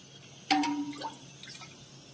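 A short splash as water is poured into dough for bobbatlu, a brief burst followed by a few soft trickling drips in a quiet kitchen.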